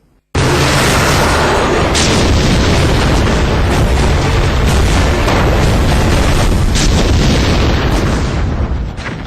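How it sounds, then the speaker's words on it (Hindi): Heavy bombardment by Russian and Iraqi forces: a loud, continuous roar of bomb explosions with repeated booming bursts layered throughout, starting abruptly and sustained to the end. "रूस और इराकी फौज बेहिसाब बम बरसा रहे हैं।"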